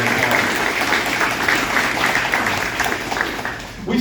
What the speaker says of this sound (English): I ask you to give yourselves a big round of applause